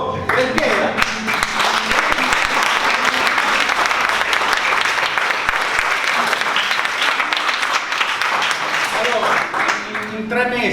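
Sustained audience applause at an Italian award ceremony, the Premio Divoc 2023, with dense steady clapping throughout and a few voices mixed in.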